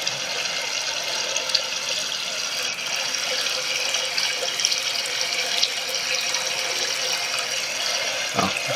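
A river flows continuously in Inunaki Tunnel, a steady hissing rush of water at even loudness throughout, with a brief low thump near the end.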